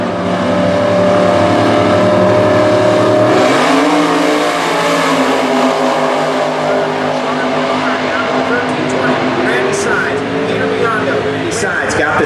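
A Super Gas drag race pitting a Hughes Performance Camaro against Peter Biondo's car, with loud engines roaring continuously at full throttle and the pitch shifting as the cars launch and pull away.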